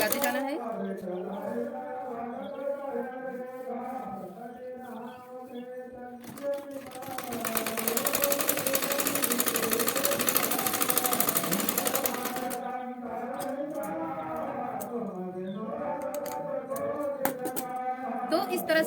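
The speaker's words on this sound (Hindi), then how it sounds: "इस पर भी हमें एक सिलाई लगा देनी है।" A sewing machine runs steadily while stitching a strip for a plain blouse, with a loud continuous burst in the middle. Music and voices play over it throughout.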